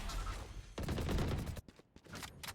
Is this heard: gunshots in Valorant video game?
yes